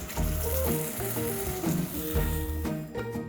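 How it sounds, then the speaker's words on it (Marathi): Ground masala paste sautéing in hot oil in a pan for a mixed yam dish, a dense close sizzle under faint background tones, loud and continuous, with no talking. "आणि आता ह्यात घालूया आपण हे वाटलेलं वाटण. हे छान परतून घ्यायचं आहे."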